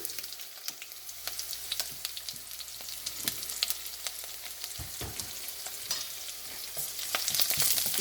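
Onion sautés in hot oil for a paneer chukka as curry leaves go in, a close steady sizzle crackling with sharp pops and spatters that swell louder toward the end.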